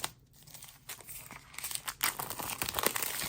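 Plastic packaging around art supply sets crinkles and tears as it is opened, irregular close crackles and rustles that grow busier and louder toward the end.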